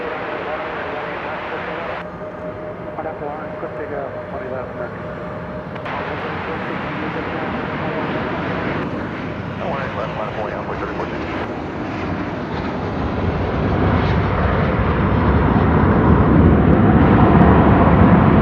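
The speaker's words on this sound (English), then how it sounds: "Arriving now from Silao in Mexico is Flight 2181," American Airlines flight 2181 arriving at DFW from Silao, Mexico: a broad jet engine roar that holds steady and swells louder toward the end, with a voice talking over it.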